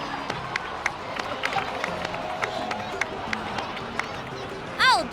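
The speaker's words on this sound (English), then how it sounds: "so please give another round of applause for them" A crowd in the video game Genshin Impact breaks into applause and cheering, a dense ongoing patter of claps and raised voices that holds steady, with a brief bright chime rising near the end.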